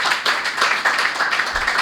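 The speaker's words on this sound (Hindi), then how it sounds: "अगर आपके लिए भी हो तो तालियां बजा सकते हैं" Audience at a Hindi poetry recitation breaks into clapping, a brief, close burst of many hands rapping steadily for under two seconds with no voices over it.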